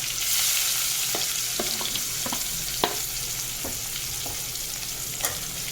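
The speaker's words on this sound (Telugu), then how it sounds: "ఆవాలైతే అయితే వేగిపోయారు అండి" Mustard seeds frying in hot oil, a soft continuous hiss broken by scattered sharp pops and crackles, close and fairly quiet with nobody talking.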